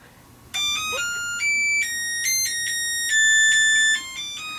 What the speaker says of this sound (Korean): 알람 소리와 함께